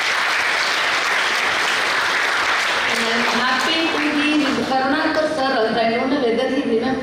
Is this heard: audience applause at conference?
yes